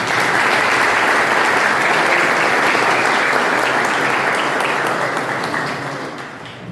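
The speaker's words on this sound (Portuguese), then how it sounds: "Uma salva de palmas a todos." Sustained applause from a congregation at the dedication of the São Cristóvão church and consecration of its altar, a dense, steady clapping that stays loud throughout and fades slightly in the final second.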